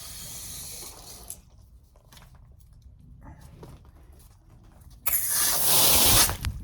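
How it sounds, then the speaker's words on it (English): Water rushing back into household copper pipes as the supply is restored: a loud hissing spray at the start, a quieter stretch of faint trickling and gurgling, then a sudden, strong, close burst of rushing water. "We're going to restore water this way, and we're going to restore water this way"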